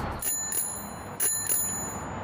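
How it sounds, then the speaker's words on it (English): A bell on a seven-speed deluxe Schwinn beach cruiser bicycle rings in several bright, quick dings in two clusters, close and clear outdoors. "They're deluxe Schwinn beach cruisers. They're 7 speeds, handbrakes, comfy seats. They have an annoying bell"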